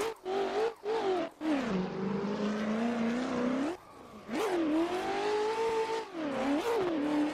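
Race car engine in a sim racing game at the Fuji circuit, loud and close, revving up through the gears with brief drops at each shift and a long steady climb.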